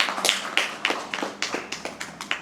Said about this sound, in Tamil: உற்சாகமான கரகோஷம்